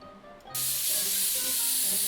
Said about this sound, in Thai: มันเป็นสเปรย์แบบว่า สเปรย์ไว้ทำความสะอาดคอม ลองดูดิ